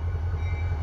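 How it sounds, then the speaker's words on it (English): A CSX welded rail freight train passes nearby with a heavy, steady low rumble and faint clatter, loud and continuous, with no talking. "welded rail train right here."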